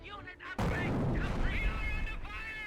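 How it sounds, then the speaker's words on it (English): Incendiary mortar round landing in a World War II strategy game battle, a sudden loud blast that swells into a sustained roaring burn and crackle, with someone talking over it throughout. "Incendiary mortar there, that was a direct hit that time, annihilates that squad"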